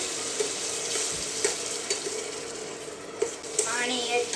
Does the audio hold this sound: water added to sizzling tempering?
yes